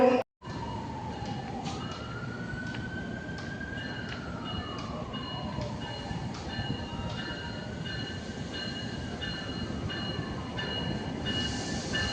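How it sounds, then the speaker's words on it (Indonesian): The Parahyangan passenger train, arriving from Bandung, pulls into Jatinegara station with a steady rumble and loud, sustained wheel squeal that glides up and down in pitch throughout. "Di jalur 4 datang kereta api Parahyangan dari Bandung tujuan Gambir."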